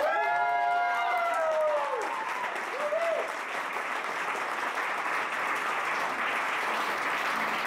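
A concert audience applauds a band, opening with a loud cheer and whoops that give way to steady, dense clapping lasting several seconds.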